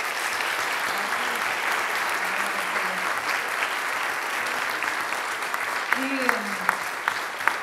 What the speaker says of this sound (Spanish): Por favor, aplaudamos-los muito.